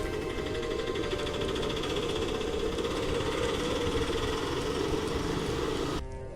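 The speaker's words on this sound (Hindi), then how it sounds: "सुबह सुबह एक ऑटो वाला हरिदास की दुकान पर आकर रुकता है।" A steady auto-rickshaw engine idles close by in an animated cartoon, its rattling hum holding constant before cutting off abruptly near the end.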